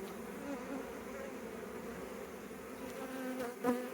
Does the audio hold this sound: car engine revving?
no